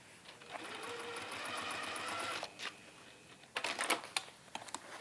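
A sewing machine stitches fabric in a steady, fast mechanical whirr for about two and a half seconds, then runs again in shorter bursts with clicks and handling noise, close and fairly quiet.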